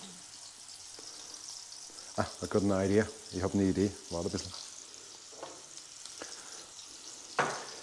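A fresh Saucisse de Morteau-style sausage fries in a pan with a steady, soft sizzle throughout, while someone speaks briefly partway through.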